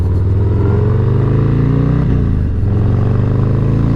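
A Harley-Davidson Road Glide motorcycle engine idles and burbles loudly up close, its exhaust a steady deep throb with a brief dip and recovery midway.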